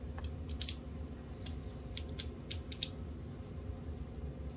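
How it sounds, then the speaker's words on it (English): A ratcheting crimper squeezes a yellow wire connector while a portable ham radio battery box is being built, giving a close series of sharp clicks and creaking ratchet snaps over a low background hum. "I'm going to use my ratcheting crimper, put the yellow in there together"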